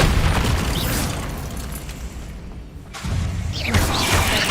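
A Bombarda spell explosion in Hogwarts Legacy: a loud, booming blast that rumbles broadly, thins out briefly in the middle, then surges again with crackling debris toward the end.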